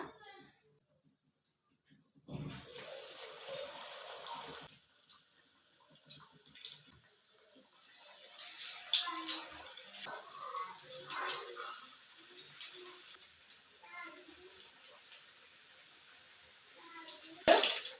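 Sweet corn vadas slipped one at a time into hot oil on a high flame, setting off bursts of bubbling sizzle that swell and fade, with a louder crackle near the end.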